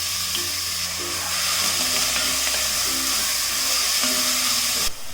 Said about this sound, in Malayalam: ഇനി ഇതിലേക്ക് നമ്മൾ ഈ ചോപ്പ് ചെയ്ത് വെച്ചിരിക്കുന്ന സവാളയും പച്ചമുളകും ഇഞ്ചിയും കൂടി ഇട്ടിട്ട് വഴറ്റി കൊടുക്കാം